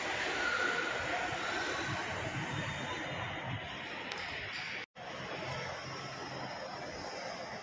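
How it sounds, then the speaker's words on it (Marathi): Metro train standing at Belapur–Kharghar station on the Navi Mumbai line, heard as a steady broadband rumble and hiss of the train and platform, briefly cut out midway. "हे बघा, ही मेट्रो लागलेली आहे."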